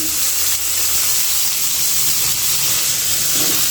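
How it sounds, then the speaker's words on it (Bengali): Potatoes and mixed vegetables frying together in a pan make a loud, continuous close-up sizzle, unbroken and without speech. "বাকিগুলো সব একসাথে দিয়ে প্রথমে ভেজে তারপর আমি কিন্তু সেদ্ধ করে নেব"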